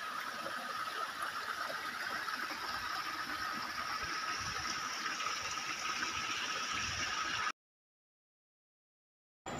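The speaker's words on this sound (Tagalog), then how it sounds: "Andito talaga yung falls na galing dito sa taas, bumabagsak doon sa ibaba." Magarang Falls in Mindoro pours steadily, a continuous hissing rush of falling water that runs evenly, then cuts to silence for the last couple of seconds.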